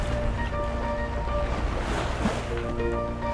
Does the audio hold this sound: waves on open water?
yes